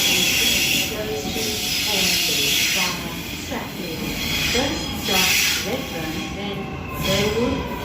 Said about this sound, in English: oh that's a new train there, I didn't see that arrive